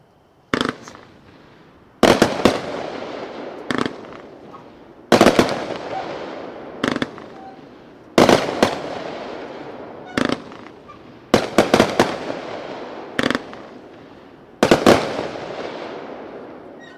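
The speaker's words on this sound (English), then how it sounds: "Next up, item number seven, Sky Patriot, 25 shots." A Sky Patriot 25-shot firework cake fired at an outdoor fireworks demo, with loud, sharp bursts going off in irregular clusters, each followed by crackling and rumbling echoes, close and powerful.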